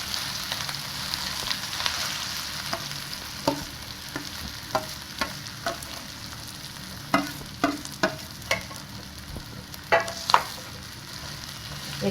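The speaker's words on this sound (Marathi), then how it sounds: "आता आपण त्यात 2 चमचे तेल घालून घेऊयात." Oil heating in a pan on a stove, crackling with a steady sizzle and scattered sharp pops and spatters throughout, fairly close with no talk.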